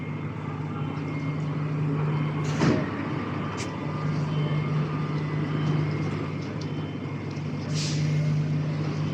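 A garbage truck's hydraulic lift raises a drum bin on a street in Saudi Arabia: a steady low engine drone with a few sharp clanks and hissing bursts as the bin goes up.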